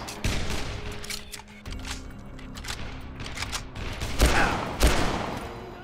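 Machine gun fire rattles in the zombie video game Dead Island, with rapid bursts of shots repeating across the clip and two heavier, booming blasts near the end, all loud and close.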